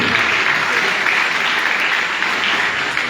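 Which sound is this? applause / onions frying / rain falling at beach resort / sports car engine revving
applause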